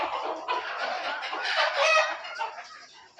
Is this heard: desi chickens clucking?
yes